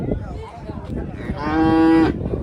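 A single cow lets out a long, loud moo close by at a Sunday cattle market where HF and Jersey cows and calves are loaded onto a lorry, over a bed of crowd and market noise.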